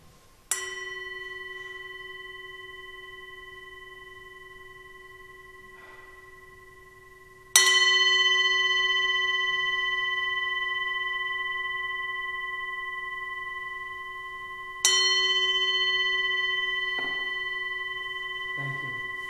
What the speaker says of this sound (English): come up and ring the bells for children